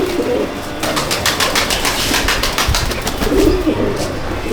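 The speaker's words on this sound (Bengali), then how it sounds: "এটা ম্যাড্রাস পায়রা" Madras pigeons in a loft in Metiabruz, Kolkata, heard as a steady bed of close, overlapping cooing and rustling with rapid flutter bursts, continuous throughout without talk.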